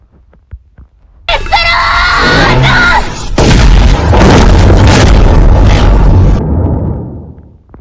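Massive magical explosion spell detonating in Minecraft PE with an addon, a loud roaring blast that rumbles and sustains for several seconds before cutting off abruptly.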